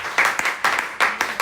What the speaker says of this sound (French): Est-ce qu'on peut l'acclamer?